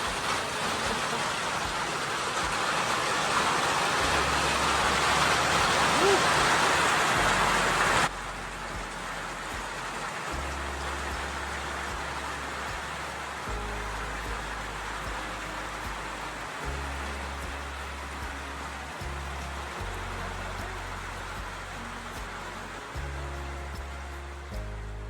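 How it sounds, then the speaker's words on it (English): Steady rain pours outdoors during a spring afternoon thunderstorm while fishing, loud and hissing at first, then softer and continuous, with low rumbles of thunder rolling underneath at intervals. "Getting caught in a spring afternoon thunderstorm while fishing with my grandma was an unexpected joy"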